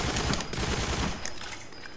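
Automatic AK-47 fire in GoldenEye Remastered, a dense continuous burst of loud shots with no talking, thinning slightly near the end.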